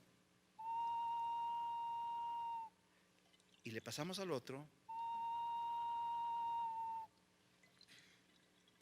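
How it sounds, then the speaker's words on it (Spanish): A replica Chorrera ceramic whistle bottle, a two-chambered clay instrument sounded by water, gives two steady clear whistle tones, each about two seconds long, separated by a burst of sloshing, pouring water and a spoken phrase. "haciendo sonar una réplica de una botella silbato, un instrumento de cerámica compuesto por dos cuerpos que funciona con agua"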